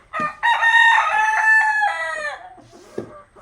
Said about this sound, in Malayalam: കോഴിനെ വിട്ടിട്ടുണ്ട്.